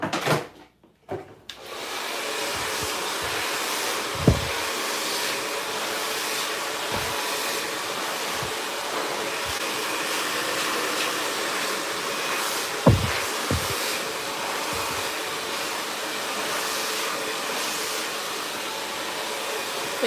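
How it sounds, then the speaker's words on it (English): A blow dryer drying hair whirs in a steady, continuous blast for about twenty seconds after clicking on, with a few faint knocks and bumps during the drying and no talking. "I'm going to go ahead and dry the remainder of the hair with the blow dryer."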